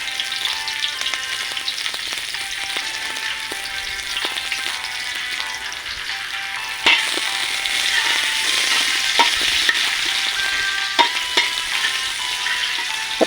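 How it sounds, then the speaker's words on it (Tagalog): Onion and garlic sautéing in oil for kare-kare, a dense continuous sizzle up close with occasional scrapes and clinks of a utensil stirring, louder after a brief jump midway, no voices. "Gigisa ko na. Sibuyas, tsaka bawang."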